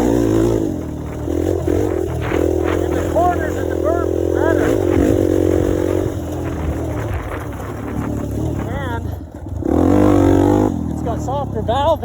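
A dirt bike engine, either an XR400 or a YZ250X, revs and bogs steadily while the rider carves through corners and berms. It runs loud and continuous, with a brief dip near the end and a voice talking over it.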